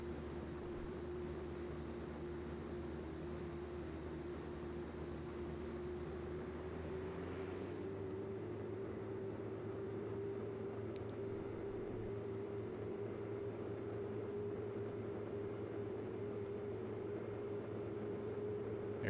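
A simulated PC-12 or DA-62 aircraft engine drones steadily during a takeoff roll in a flight simulator game, a constant propeller hum with a rising whine partway through and no voices.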